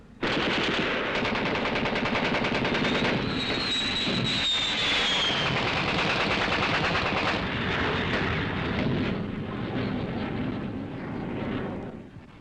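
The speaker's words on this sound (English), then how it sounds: "The main defense against these air raids was rifle and machine gun fire" Rifle and machine gun fire against air raids over Hanoi in wartime, heard as dense, sustained rattling bursts that run loud and continuous for most of the stretch, fading slightly near the end.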